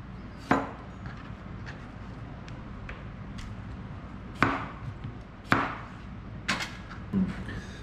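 A knife chops cucumbers on a cutting board for kimchi, giving sharp, isolated thuds with irregular spacing and a few softer taps between them, close and clear.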